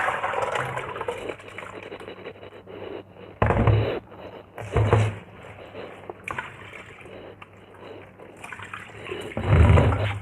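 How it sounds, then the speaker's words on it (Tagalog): Water pours and splashes in uneven bursts as it drains from soaked grain for jareesh, with a few louder gushes standing out over a steady wet trickle, close by. "Ganyan lang yung tatanggalan siya ng tubig."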